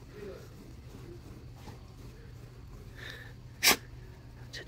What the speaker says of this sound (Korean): 재채기 하지 말랬지, 너